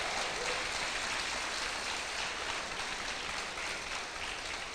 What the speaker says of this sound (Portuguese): Dá um aplauso a ele aí, ó.